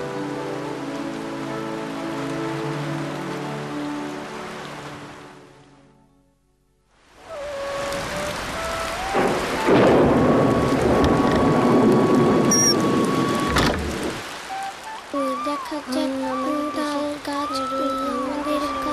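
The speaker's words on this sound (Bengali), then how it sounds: "যেইভাবে বৃষ্টি হইতেছে মনে হয় এইবারও বন্যা হইব" Heavy monsoon rain pours down steadily in a cartoon village scene, a dense hiss that drops away into brief silence and then returns louder, with tonal sounds layered over it near the end; no clear thunder stands out.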